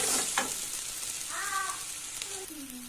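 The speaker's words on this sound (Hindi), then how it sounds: "तो ये हमारा हो गया है फ्राई, और मिक्स भी हो गया है श्रिम्प और आलू अच्छे से।" Shrimp and potato frying in a pan, a steady close sizzle with faint stirring and clinks, and a brief voice in the middle.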